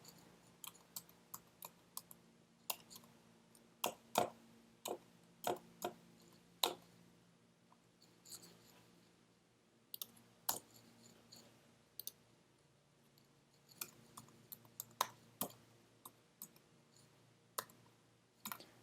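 Faint clicking keystrokes on a computer keyboard come as a person types out the alphabet, in irregular taps and small clusters over a quiet background.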